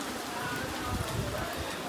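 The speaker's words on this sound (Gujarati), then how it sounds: "વરસાદ બહુ જ પડે છે એટલા માટે છત્રી લઈને નીકળવું પડ્યું" Heavy monsoon rain falls steadily outdoors at a roadside eatery in Ravechi, a soft, continuous hiss and patter heard at a low level throughout, with no breaks.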